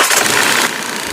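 A Mahindra Scorpio's engine runs loud and close with a steady broadband roar that eases down slightly partway through as it settles toward idle, with no voices.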